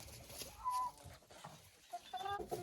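A white laying hen, freshly wet and drying off, gives a few short clucks and a brief drawn-out call, fairly close, over soft coop background noise.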